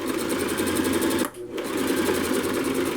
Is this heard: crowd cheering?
no